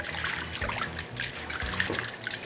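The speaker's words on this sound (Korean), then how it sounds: "개수대에 가셔서 흐르는 물에 깨끗이 한번 씻어 주시고요" Bean sprouts rinsed under a running kitchen tap at the sink, a steady splashing trickle of water with soft patters as the sprouts are handled, close and continuous with no talk.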